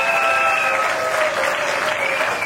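Guests at a wedding ceremony applaud loudly in a continuous wash of clapping, with a sustained tone running underneath.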